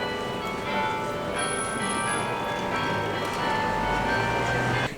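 Church bells ring steadily across a Belgian city, a dense sustained wash of overlapping tolling tones heard from a distance in an outdoor street setting, with no voices.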